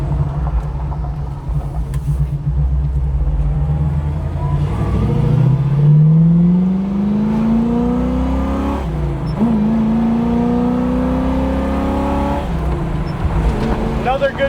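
A 1970 Chevrolet Camaro engine rumbles and revs while driving down the road, its pitch rising through a gear then dropping and climbing again, loud and close from inside the car, with people talking over it.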